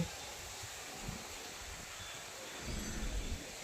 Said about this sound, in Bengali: আর এত হাওয়া দিচ্ছে